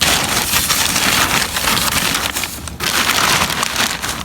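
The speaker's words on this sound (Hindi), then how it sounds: "अब बारिश का सीन सुने आप लोग" Steady, dense rain pouring down on a hard surface, a constant broadband hiss with scattered drops and patter throughout, fairly loud and close.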